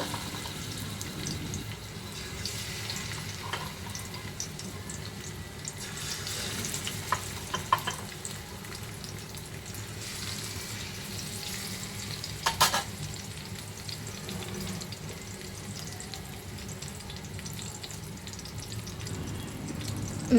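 Hilsa fish tails fry in hot mustard oil in a pan, a steady, continuous crackling hiss with occasional sharper spatters and a brief metallic clink, no voices.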